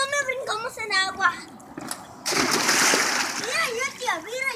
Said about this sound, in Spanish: mira cómo brincamos en agua